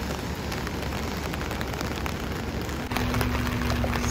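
Steady monsoon rain hisses down near Galigibaga Beach and the Galigibaga River bridge in South Goa, a dense continuous wash of drops close to the microphone with no talking.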